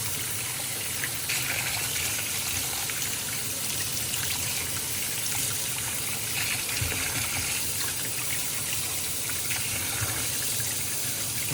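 Tap water runs steadily over chicken pieces being washed at a sink for a Kovai-style chicken curry, a continuous close splashing gush with no voices.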